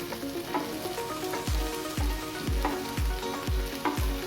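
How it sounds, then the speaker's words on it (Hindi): Pumpkin and drumsticks go into a pan of sambar and get stirred, giving a steady sizzle with regular spoon scrapes about every half second, close and fairly loud, with no talking. "अब हम डालेंगे जो हमने वेजिटेबल्स रखी थी, पम्पकिन और ड्रम स्टिक्स, वो अब हम डालेंगे इसमें"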